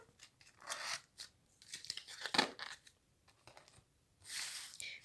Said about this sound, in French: Donc, je vais ranger les autres cartes.